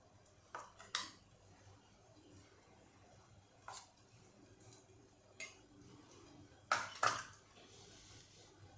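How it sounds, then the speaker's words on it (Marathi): Metal spoon scraping and clinking against a bowl and pan as fine green chili chutney is moved into a bowl, with a few sharp clinks over a quiet kitchen background and no talk. "आता ही चटणी मी या बोलमध्ये काढते"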